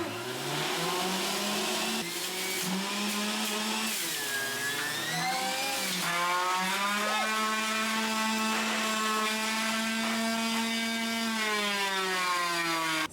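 A juicer's spinning blade grinds fresh ginger in a steady, loud motorized whine that dips and surges in pitch as the pieces feed through, running continuously without talk.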